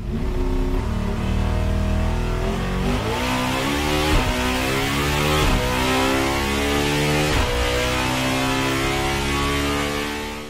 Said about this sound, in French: vous avez le beau son du moteur Atmo